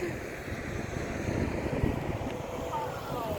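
Wind buffets the microphone in a constant low rumble, with faint water or engine noise underneath and no clear talk.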